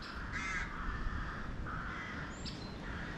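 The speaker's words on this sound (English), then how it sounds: "You got all the crows up there and their nests." Several crows caw repeatedly overhead near their nests by the Norfolk Broads in March, harsh calls recurring over steady wind and water noise.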